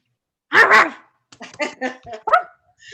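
A person's voice imitates a dog, giving a loud double bark followed by several shorter yappy barks and yips.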